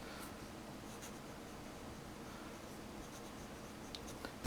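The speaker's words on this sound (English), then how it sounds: "once I start writing in script" A fountain pen with a broad nib, roughly 1.1 to 1.5 millimetres, writes script on paper in a faint, close scratching rustle, steady throughout with a few light taps near the end.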